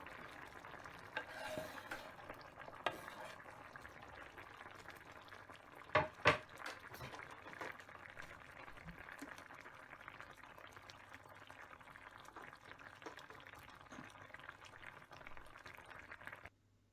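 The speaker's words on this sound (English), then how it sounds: "So I added the pepper and let it boil for about 1 to 2 minutes." Braised chicken with pepper, carrots and potatoes bubbling in a pot, a quiet continuous simmer and faint sizzle with a couple of brief clanks of stirring near the middle, no talking.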